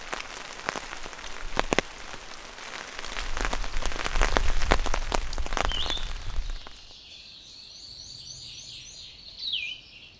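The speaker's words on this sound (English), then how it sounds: "a little bit of rain hit" Rain patters on a hammock camp with dense, irregular drops, loud for about seven seconds before easing off, and faint bird chirps follow.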